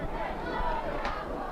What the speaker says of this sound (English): you hear the crowd going wild now